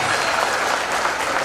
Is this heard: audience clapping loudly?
yes